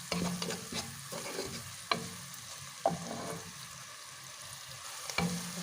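Onion sautéing in a pan, sprinkled with salt and black pepper, crackles under a steady sizzle while a spoon scrapes and stirs it in several distinct strokes; close, with no talking.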